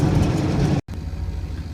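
A truck engine idles with its carburetor running slightly rich, a steady loud low rumble, briefly cut out midway before resuming.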